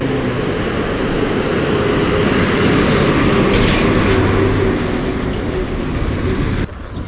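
A large vehicle arriving at the Shastri Pool roadside bus stop makes a steady loud engine and road rumble. The noise is close and continuous, then drops abruptly near the end.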